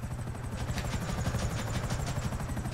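A helicopter in the video game GTA 5 keeps a loud, steady rotor thrum going the whole time, with a fast rhythmic chop over a dense engine whine and no voices.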